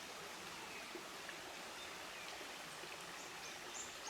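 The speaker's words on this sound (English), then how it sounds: "what a pristine looking creek. It's just so clean." A clear, clean creek runs over rocks in Barrington Tops National Park, giving a steady, faint rush of flowing water with no breaks and no voices.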